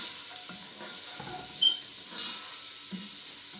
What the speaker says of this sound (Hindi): बस गार्लिक को हम थोड़ा सा सौटे करेंगे। हल्का सा हमने भूनना है गार्लिक।